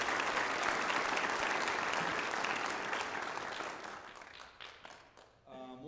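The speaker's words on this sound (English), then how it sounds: "So I just want to give her a round of applause." An indoor crowd at a girls basketball team's welcome-home gathering gives a sustained round of applause for a player, with dense clapping that gradually thins out and fades toward the end.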